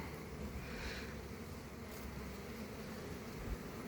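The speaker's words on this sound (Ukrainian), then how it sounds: "Спокійненькі, риженькі, дуже-дуже файні бджолки." Calm ginger honeybees at an open hive give a steady, low, diffuse buzz close by, continuous throughout with no voices.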